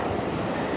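A broad rushing wash of surf at Nai Thon Beach, Phuket, Thailand, steady and noisy with wind mixed in, like a wave breaking nearby.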